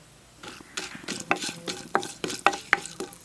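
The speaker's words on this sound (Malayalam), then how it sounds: "ഇനി 1 ടീസ്പൂൺ പരിപ്പും 1 നുള്ള് ഉലുവയും ചേർത്ത് കൊടുക്കുക." Urad dal and a pinch of fenugreek seeds frying in a pan of oil for tomato chutney, with crackling sizzle and irregular stirring scrapes that come in bursts, close and moderately loud, with no talking.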